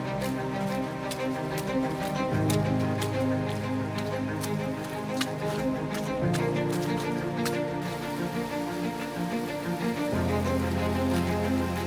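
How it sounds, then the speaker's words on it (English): Heavy rain pattering continuously during a 6-hour race in Japan, over a low droning hum, with occasional sharper drips and taps throughout. "it's raining cats and dogs"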